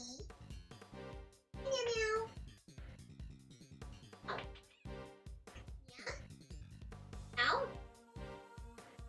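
A cat meows repeatedly in Ace Attorney Investigations 2, its high wavering cries cutting through steady game music, with a longer drawn-out meow near the start and another near the end.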